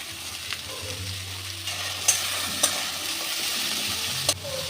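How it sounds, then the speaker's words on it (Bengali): Chopped carrots and beans stir-fry in a hot pan for chow mein, giving a steady soft sizzle broken by a few sharp scraping clicks of the spatula, close by and without talk. "গাজর বিনস ভাজা হয়ে গেছে"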